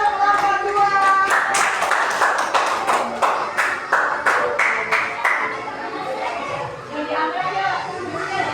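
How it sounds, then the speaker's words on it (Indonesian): Classroom clapping for a student group during a coding and artificial intelligence lesson: a quick burst of many hands clapping, mixed with children's chatter and a teacher's voice, then trailing off into talk. "tepuk tangan untuk kelompok 2"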